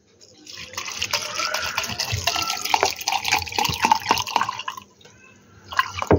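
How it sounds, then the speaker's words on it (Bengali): Water is poured in for amla juice, a continuous close splashing and trickling with dripping that lasts several seconds, then tapers and briefly returns at the end. "এবারে জল অ্যাড করব।"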